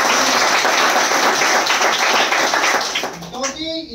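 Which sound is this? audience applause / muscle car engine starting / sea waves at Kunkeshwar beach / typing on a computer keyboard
audience applause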